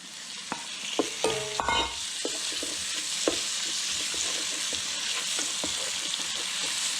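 Pork sizzles in a pan with onions and garlic for Zambian cabbage with pork, a steady broadband fry punctuated by scraping stirs and clinks of utensils, with a brief sharper burst of spatter and clatter early on; no voices.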